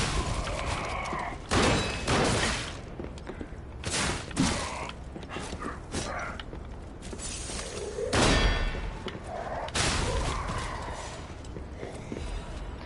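Volleys of gunfire from a firing squad in the video game Lies of P burst out in loud, broad cracks and rumbling blasts, arriving in uneven clusters over a noisy background.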